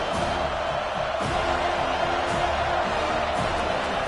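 Steady roar of a college football stadium crowd during a defensive stand in a game against Georgia, dense and continuous with no clear peaks, filling the space without individual voices standing out.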